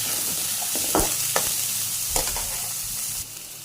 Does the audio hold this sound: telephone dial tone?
no